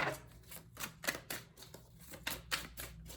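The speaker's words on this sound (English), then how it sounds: "Let's get a couple more shuffles in here" Tarot cards shuffled by hand, a quick run of close riffling flutters and soft slaps in uneven bursts, quiet and without talk.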